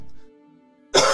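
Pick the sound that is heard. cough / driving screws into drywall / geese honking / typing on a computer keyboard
cough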